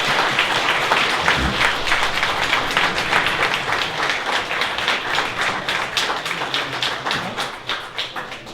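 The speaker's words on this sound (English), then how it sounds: "let's have a round of applause for all our panelists" Audience applause for the panelists at the close of a talk on municipal politics and socialist strategy: sustained, dense clapping from a crowd that gradually thins toward the end.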